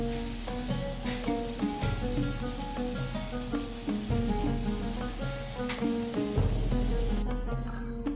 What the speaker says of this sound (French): Faites bien chauffer un bain d'huile, puis baissez la température et commencez la friture des beignets sur les deux côtés